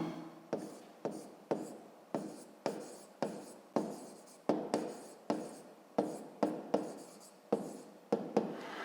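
A pen scratches out an equation by hand on paper in a steady run of short, regular strokes, each with a sharp start and a quick fade, close and quiet with no talk.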